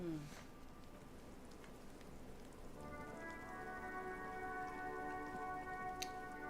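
Steady rain falls in a Disco Elysium game scene, a soft even patter running throughout with a tonal musical bed entering partway and a faint tick near the end.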